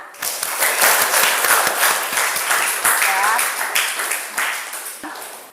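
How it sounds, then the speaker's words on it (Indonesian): Classroom applause for a student, many hands clapping in quick uneven bursts with a brief voice cutting in near the middle. "Tepuk tangan."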